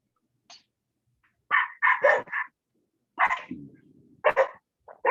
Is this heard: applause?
no